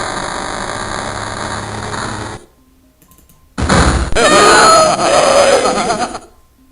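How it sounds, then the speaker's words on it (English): High-pitched moaning of a young boy plays in a Macintosh Plus haunted-mansion game. A loud noisy burst cuts to near silence, then a strained, wavering wail rises and fades. "we just heard the high-pitched moans of a young boy"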